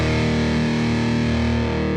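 A heavily distorted electric guitar rings out in a thick, sustained chord, loud and steady with no talking.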